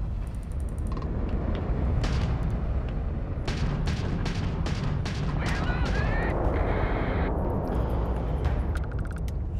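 Ballistic cannon and laser fire in a starship battle in the video game Starfield: a dense, loud, continuous barrage of bursts and zaps with sharp repeated shots over a rumbling roar.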